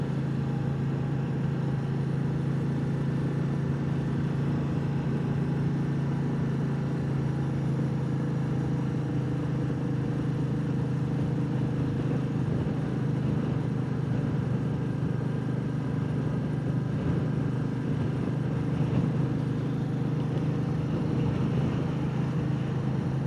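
A Royal Enfield Meteor 350 single-cylinder motorcycle engine idles with a gentle, steady low chug, its even pulsing drone continuing unbroken throughout at moderate loudness, with no voices present.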